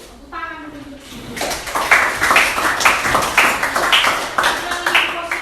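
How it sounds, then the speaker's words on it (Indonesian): Rhythmic group clapping fills a classroom, with quick patterned bursts of hands repeating steadily while children's voices chant along over the claps. "Tepuk tangan untuk itu."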